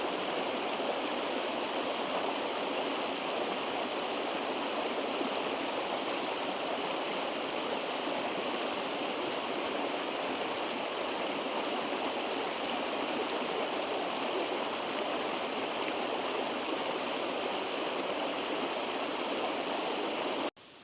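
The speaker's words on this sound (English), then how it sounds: "It's a very loud waterfall because you can get really up close to it." A loud waterfall and the stream flowing from it in a woodland in the Wicklow Mountains, Ireland, make a dense, steady roar of rushing water. It is heard up close and unbroken, with no voices.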